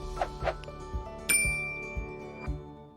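A bright notification bell sound effect chimes once with a ringing metallic tone over a soft music bed, alongside a few lighter clinks and dull taps.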